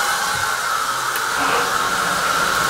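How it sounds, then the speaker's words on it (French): A Thema C 25 E gas boiler fires up as hot water is turned on, giving a steady, loud, broadband hiss of rushing gas and flame that holds constant throughout. "La chaudière se met en route."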